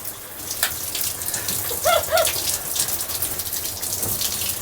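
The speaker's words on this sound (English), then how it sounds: "So this is the Evolution rain head. It's pretty incredible." Evolution rain shower head running inside a new RV: a dense, steady hiss of falling water spraying down, loud and close, with a couple of brief squeaky sounds in the middle and no talk.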